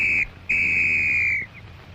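A WWII infantry sergeant's whistle signals his rifle squad during a flank advance: a short, shrill blast, a brief gap, then a longer sustained blast. It is loud and close over a low background rumble, with no talking.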